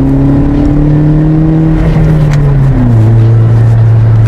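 A car fitted with a Greddy chambered muffler revs steadily, its exhaust a loud, continuous droning note that dips in pitch partway through, heard close with no voices.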